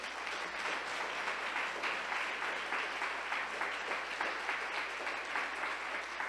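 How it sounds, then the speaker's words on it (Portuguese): A church congregation applauds together in steady, dense clapping that fills the space evenly from start to finish, a sustained wash of many hands at worship. "Aplaudam Jesus por isso."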